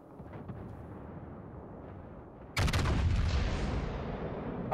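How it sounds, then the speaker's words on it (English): Blind gunfire from across the map in a video game, a sudden loud burst of shots that erupts partway through after a quieter stretch and then rumbles on steadily. "I don't know if I like that blind fire from across the map, though."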